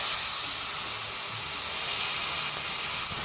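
Garlic, green chilies, salt, turmeric and dried chili fry in oil in a kadai for a red meat curry, giving a steady, close, hissing sizzle that holds at an even level throughout.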